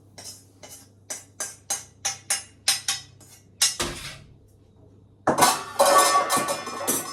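Roasted semolina (suji) is scraped out of a pan into a metal utensil with a spoon: a steady series of sharp clinks and taps, a pause, then louder clattering scrapes, close and with no talk.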